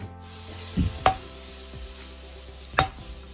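Butter melts in a hot pan while Korean fried chicken is being made. A soft sizzle runs under a few sharp utensil clinks and scrapes, with no voices.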